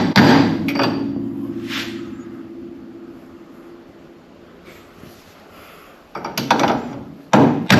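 Heavy hammer blows strike a pipe fitted over the front brake spindle of a 1959 Edsel during a disc brake swap, a few loud, close metallic impacts with ringing decay and a quieter stretch between them.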